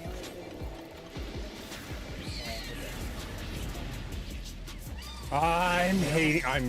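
A house cat meows once, clearly and close, near the end, over a busy background of game sounds and noise.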